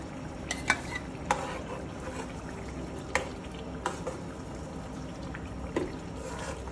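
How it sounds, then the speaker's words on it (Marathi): Spinach paste stirred into cooked, oil-releasing masala for dhaba-style palak paneer: continuous soft sizzle with several sharp spoon scrapes and knocks against the pan, no talk. "आता आपण पालकची पेस्ट टाकायची आहे यामध्ये।"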